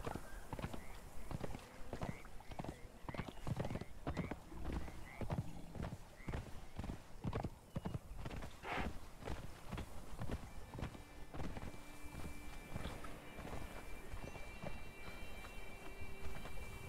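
Video game horse hooves clip-clop at a steady walking pace for several seconds, then fade into ambient background with faint tonal game sounds, from Conan Exiles.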